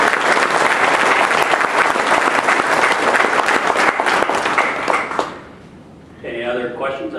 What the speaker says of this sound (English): Round of applause for TDR.